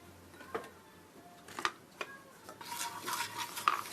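A spoon stirs spices, pepper and salt in a pot for egg biryani, giving scattered clinks and scrapes. A soft sizzle rises toward the end.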